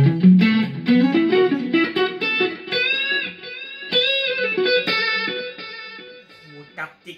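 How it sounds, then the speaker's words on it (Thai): A clean 1988 Fender USA electric guitar is strummed and picked in bright, ringing chords and short phrases, played alone with no effects noticeable. "เฟนเดอร์นี่ขึ้นชื่อเสียงคลีนอยู่แล้วอ่ะลองตัวนี้ก่อนนะครับ"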